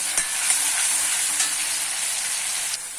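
A thick tomato masala fries in a pan over medium heat with a constant bright sizzle, close up, with a few faint taps of stirring.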